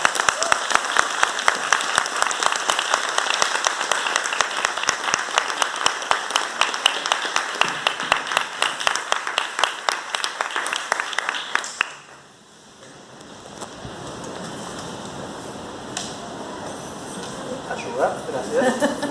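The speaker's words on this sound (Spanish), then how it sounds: "Un fuerte aplauso le damos a Dios." A church congregation gives loud, dense applause to God, steady close clapping for about twelve seconds before it drops away into softer room noise with a few scattered claps.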